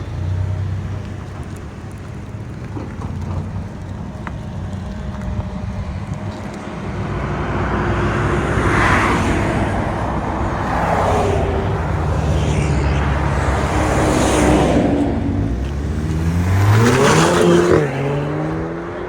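A 2018 Audi A5 2.0L turbo four-cylinder with its muffler deleted idles with a low rumble, then revs repeatedly in loud, raspy rising bursts close by.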